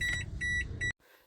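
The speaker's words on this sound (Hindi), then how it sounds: "एबीएस के तीनों साइन ऑन है और सायरन बजा जा रहा है और वो सायरन जो है वो बंद नहीं हो रहा" A Toyota Aqua's ABS warning alarm beeps in a rapid, steady repeating pattern inside the running car, loud and close, then cuts off abruptly near the end with the engine hum remaining.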